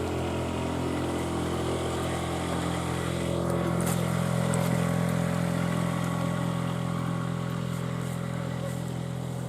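An outboard motor drones steadily nearby, a continuous buzzing engine tone with a low hum, as a boat runs along a river.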